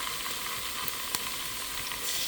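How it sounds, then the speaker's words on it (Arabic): Onions frying in a pan, a dense and steady close sizzle with faint occasional pops and a single sharp tick midway. "هسه راح نحمص شوية البصل على النص"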